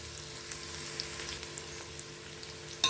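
A puffed-rice bhel mixture is sautéed in a pan, giving a soft, steady sizzle and light frying crackle, fairly quiet and unbroken, with no talking.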